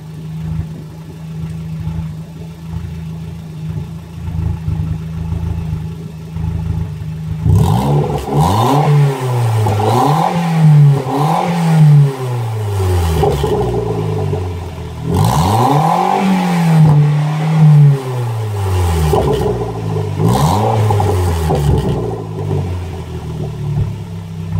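A turbocharged 1ZZ engine in a Toyota MR2 Spyder (Roadster), one known for burning oil, idles steadily and then is revved hard several times in a row. The sharp rising and falling bursts sound close and loud, with no talk.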